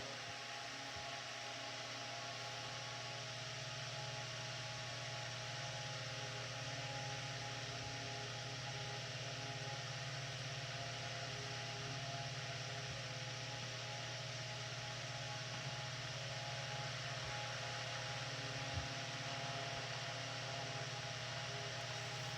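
Restored 8-inch Kenmore desk fan running steadily, its motor giving off a constant hum and faint whine over a soft airy rush, even and unbroken throughout with no voices.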